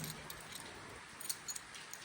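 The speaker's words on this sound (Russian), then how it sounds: "Да, 2 ключа. И один из них должен открыть дверь." A small bunch of two keys jangles and clicks while being tried in a door lock on Flores island in the mid-Atlantic, soft close metallic clinks over a quiet background, with no talk.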